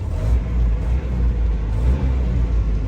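Land Rover Series 3 petrol on a shakedown drive along a private road, a loud continuous low engine rumble with slight surges, close and without talking.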